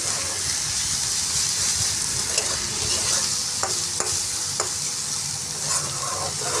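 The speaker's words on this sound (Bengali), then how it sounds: "আর মশলাটাকে নাড়িয়ে চাড়িয়ে নেব।" Masala frying in a pan with turmeric, chilli powder and salt, a steady sizzle under repeated scraping strokes of a spoon stirring the spices, close and continuous with no talk.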